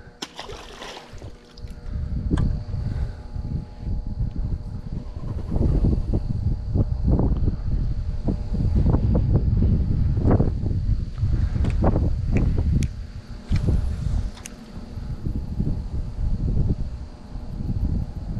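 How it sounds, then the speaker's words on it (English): Strong wind buffets an outdoor microphone beside a ditch in Indiana fields, producing continuous loud, low rumbling gusts with bursts of heavier thumping across the whole stretch. "this wind is ridiculous. It's probably making a lot of audio problems."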